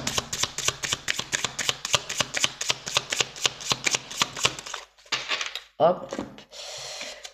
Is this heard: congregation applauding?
no